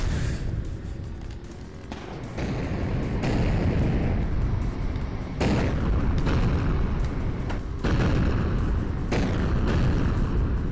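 Loud C4 explosions from the motorcycle combat game Road Redemption boom in quick succession over a constant roar of engines and action, heavy and close throughout.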